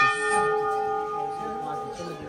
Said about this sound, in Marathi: नुसताच घंटा. जिकडे जाल तिकडे घंटा.